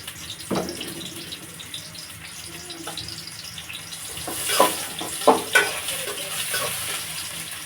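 Oil heats in a pot for pulao with a soft sizzle, then a spoon stirs and scrapes in a few louder bursts toward the end.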